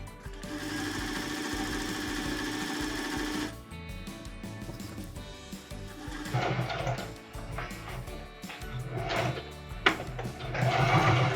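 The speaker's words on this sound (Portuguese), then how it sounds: "deem um retrocesso até o final para depois voltar à costura normal" An SS-226c sewing machine using its overlock function stitches a kitchen towel, a steady rapid needle whir that pauses briefly, then resumes in uneven bursts with reverse stitching and fabric handling, close and clear.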